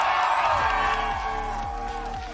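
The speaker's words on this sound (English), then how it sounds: "you can hear the crowd for the Sentinels" A large esports arena crowd roars and cheers for Sentinels at a VCT Americas Kickoff match against G2, a dense sustained wall of cheering that fades slightly toward the end.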